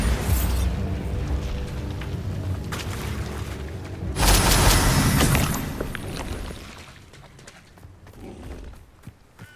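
Bombarda blasting spell going off in Hogwarts Legacy, a loud booming burst that rises sharply midway and then fades slowly, among clattering combat noise.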